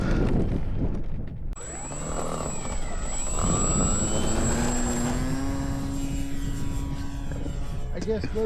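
Radio-controlled model airplane engine in flight over a flying field: a high, thin whine drones steadily at moderate distance, rising and falling in pitch as the throttle changes, with people talking nearby.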